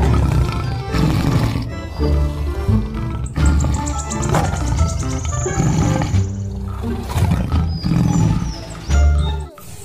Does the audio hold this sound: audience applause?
no